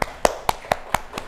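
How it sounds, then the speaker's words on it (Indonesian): A small classroom group gives a brief round of applause for presenting group 2, with sharp, evenly spaced claps ringing out about five or six times in quick succession. "beri aplaus ke kelompok 2"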